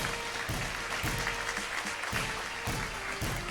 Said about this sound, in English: With a thunderous round of applause, everybody congratulate the new ministers.